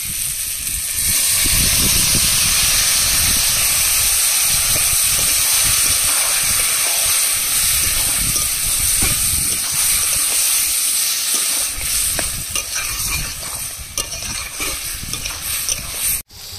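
Loud, steady hiss of boiled ash gourd added to frying crabs in a hot pan, continuous throughout with occasional stirring clatter, no voices.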